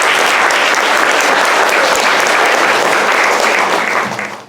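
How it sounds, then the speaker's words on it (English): Steady, loud audience applause fills a festival gathering in Monterey, California, devoted to abalone, holding strong for about four seconds before tapering off at the end. "Give a round of applause."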